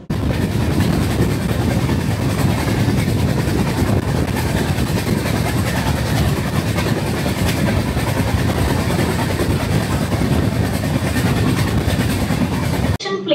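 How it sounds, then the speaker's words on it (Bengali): The Samleshwari Express runs on the line after pulling out of Bagdehi station in Odisha, a loud, steady rumble of wheels and carriages with rhythmic rail clatter heard from on board, continuous until an abrupt cut at the end. "আমাদের ট্রেন ছেড়ে দিল বাগডেহি স্টেশন।"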